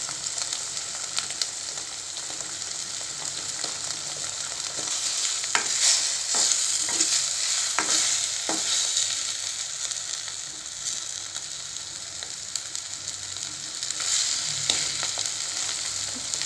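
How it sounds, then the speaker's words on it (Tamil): Egg scrambled with mini pooris for podimas, a steady close sizzle in a hot pan with repeated light scrapes and taps from the spatula as it is stirred, no voices. "அப்படி முட்டை கொஞ்சம் நேரம் அப்படி வேகட்டும்."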